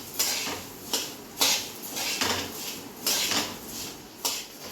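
Coriander seeds dry roast in a pan over low heat, with rhythmic spatula strokes scraping and rattling the seeds roughly once a second, close and moderately loud.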